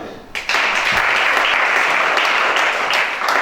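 A congregation at a church service claps in sustained applause, the dense burst starting abruptly and holding loud and steady, with faint voices mixed into the clapping.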